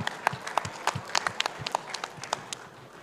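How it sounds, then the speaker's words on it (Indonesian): An audience at a logistics and trade expo talk show claps for the speakers, a short burst of scattered, fairly close hand claps that thins out toward the end. "mari kita berikan aplaus yang sangat meriah"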